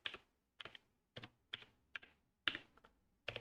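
Individual keystrokes on a computer keyboard as a short command is typed, about eight crisp, evenly spaced clicks, close and quiet with silence between them.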